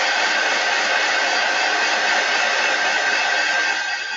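A hair dryer drying paint on a wooden snowflake door hanger craft, giving a loud, steady, close airy roar that holds unchanged throughout with no talk.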